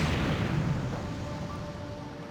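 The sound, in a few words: series of explosions destroying a Boeing 747 plane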